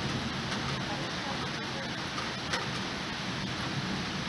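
Rain from a thunderstorm in Dresden falls steadily with a dense, even hiss and occasional nearby drop ticks, and no thunder is evident.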